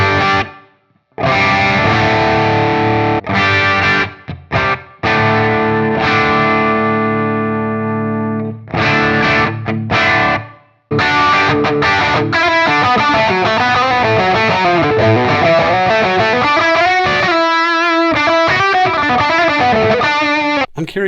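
Heavily distorted electric guitar through a Bogner Blue amp model on a Line 6 POD Go, playing sustained chords and then busier riffs, drenched in thick reverb and delay, loud and saturated with brief pauses between phrases.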